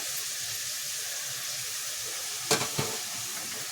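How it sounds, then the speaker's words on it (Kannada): Tomatoes with chili powder, turmeric and salt frying for egg sambar, a loud continuous close sizzle in the pan, broken near the end by a couple of quick stirring scrapes. "ಟೊಮೆಟೊ ಚೆನ್ನಾಗಿ ಫ್ರೈ ಆಗಬೇಕು"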